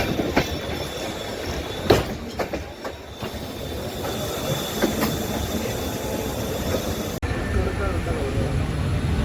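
Train rolling on rails during the Koraput–Araku–Visakhapatnam journey through the Odisha–Andhra border hills, a steady close rumble with occasional clicks and knocks, and voices talking faintly over it.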